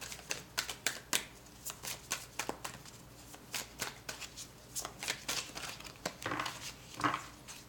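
Tarot cards are shuffled by hand in a quick run of soft riffling flicks and slaps, close up and fairly quiet.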